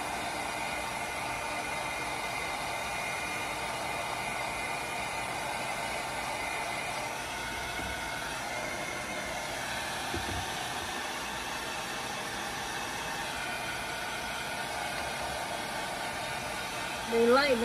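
Hot air blows steadily over a handmade coaster to dry it, a continuous close-up whooshing hiss that holds at an even level for the whole stretch, with a short louder burst near the end.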